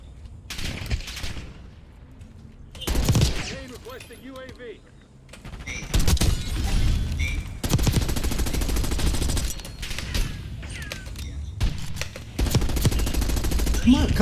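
Rapid automatic gunfire from Black Ops 6 Warzone, loud close bursts and sustained machine-gun volleys mixed with mechanical clanks and game effects, while a player talks over the action.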